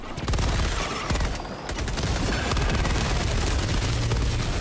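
A grenade goes off in Helldivers 2 amid a dense, loud burst of gunfire and blasts, a thick continuous barrage with sharp cracks layered over low rumble.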